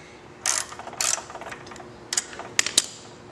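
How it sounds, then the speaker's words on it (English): A 5mm Allen key working a bolt loose on a car's brake pedal assembly, producing a few close metallic clicks and ratcheting scrapes in separate short bursts with quiet gaps between, no talking. "So you want to take that bolt out."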